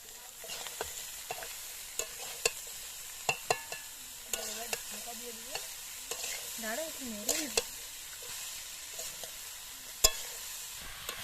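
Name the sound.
chopped bottle gourd added to frying spice mix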